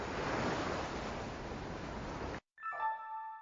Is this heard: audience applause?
no